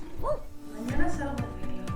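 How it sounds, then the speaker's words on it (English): A dog barks a couple of times at a distance in a village along the Camino de Santiago, heard under nearby talk and the sound of people walking. "It's a dog barking here."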